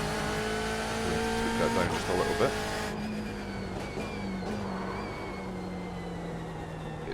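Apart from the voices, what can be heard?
GTE race car engine driving in video game iRacing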